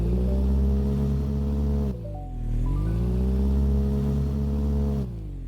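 An inline three-cylinder 1.0 L engine in the Fix It Up video game revs steadily to a limited high pitch, drops briefly and climbs again, loud and close with a buzzing harmonic tone.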